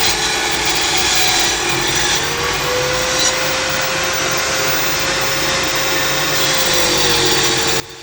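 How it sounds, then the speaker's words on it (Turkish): Steady, loud rasping of cutting through the excess length of a thermometer in a workshop, continuous for several seconds with a faint rising tonal whine, stopping abruptly at the end. "termometrenin fazlalıklarını kesmeye başlıyorum"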